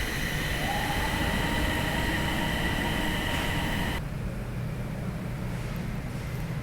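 A Bangkok Gold Line metro train arriving at a station hums and whirs steadily at close range, a faint high whine riding over the rumble, then the noise drops abruptly to a quieter drone.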